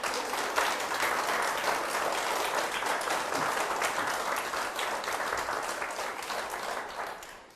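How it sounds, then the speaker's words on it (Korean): Lecture-hall audience gives sustained applause, a dense, even patter of many hands that stays loud for several seconds before tapering off at the end. "여러분 정주한테 박수 한번 주세요."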